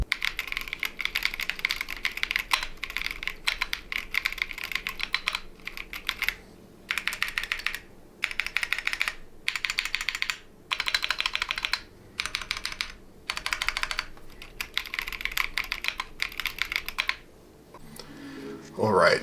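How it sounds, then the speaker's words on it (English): Bursts of rapid typing on an unmodified Keychron Q1 Pro mechanical keyboard, crisp clacky keystrokes in quick runs separated by short pauses, close and clear. "let's take a look at what the Keychron Q1 Pro sounds like without any modifications"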